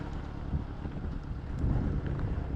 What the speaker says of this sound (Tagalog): kaso sobrang hangin